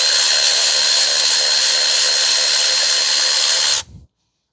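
A power tool whines steadily and loudly while tightening the drive belt on a 2010 Toyota Corolla 1.8, running continuously before cutting off abruptly near the end and spinning down to silence.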